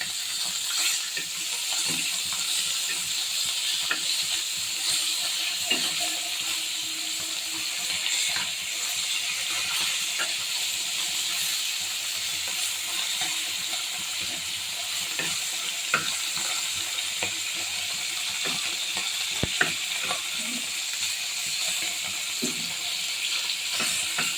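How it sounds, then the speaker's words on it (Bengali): Eggs fry in a pan on a home stove, a steady close sizzle running the whole time with occasional faint clicks and scrapes, no voices. "ডিম ভেজে রাখছি ততটা"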